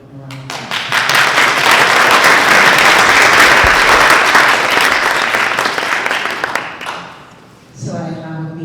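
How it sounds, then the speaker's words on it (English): An audience at an evening event for the Colescott family, honouring artist Robert Colescott, breaks into loud sustained applause that swells quickly, holds for several seconds, then fades as a voice begins speaking near the end. "If you could give them a round of applause."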